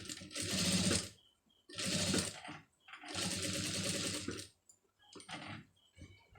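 A domestic sewing machine stitches a scallop border design in three long, even runs, each a loud whirring burst, then a few shorter stops and starts near the end.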